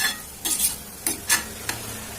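Boondi frying in oil being stirred, soft background sizzle broken by four or five sharp scraping strokes of a slotted ladle, close and clear, no talk.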